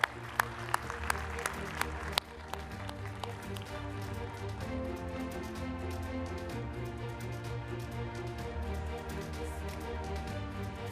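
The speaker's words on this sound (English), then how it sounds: "A round of applause, ladies and gentlemen." Audience applause at an event on India's AI vision with a minister present, a steady dense clapping wash running the whole time, with a few sharper claps standing out near the start.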